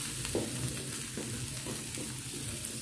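A ladle stirs food frying in a pan, scraping in soft, uneven strokes over a steady close sizzle, with no voices.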